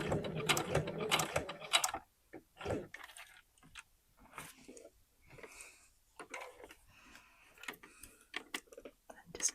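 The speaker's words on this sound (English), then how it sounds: "I know I'm sewing over the pins" A sewing machine slowly stitches a sleeve on knit fabric over pins, giving soft, uneven mechanical ticking and short bursts after louder handling noise at the start, close and fairly quiet.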